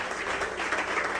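Brief burst of congregation applause during a church anniversary worship service, a dense patter of many hands clapping at moderate distance, cut short after about a second.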